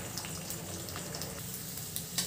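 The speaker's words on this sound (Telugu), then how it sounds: "एग्स फ्राई अवुतున్నాయి కదండి." Eggs frying in a pan for Maggi egg biryani give a steady close sizzle with small crackles throughout, with no voices.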